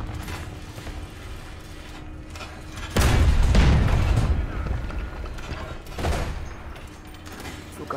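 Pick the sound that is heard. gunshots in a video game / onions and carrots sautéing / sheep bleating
gunshots in a video game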